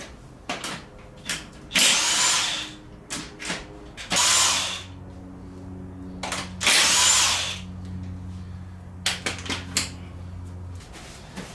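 Power tool loosening bolts on an LS engine during a teardown, several short whirring bursts from a drill or impact driver, close by, with ratcheting clicks and a steady hum between them.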